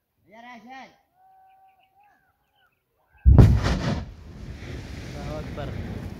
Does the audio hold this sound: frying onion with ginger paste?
no